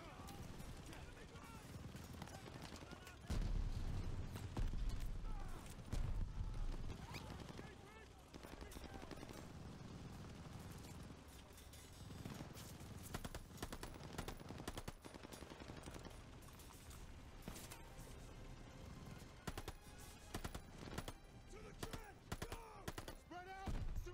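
Machine guns fire in rapid rattling bursts through a Call of Duty Vanguard battle, joined by blasts and mechanical clatter, under voices shouting and talking throughout.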